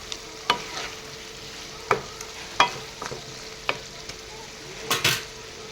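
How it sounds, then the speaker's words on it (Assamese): Tomatoes and potato being stirred in a frying pan for chicken curry, with sharp scraping stirs every second or so over a steady low sizzle, close by and without talk. "এইখিনিও এনেদৰে তলপৰ কৰি লৰাই দিম।"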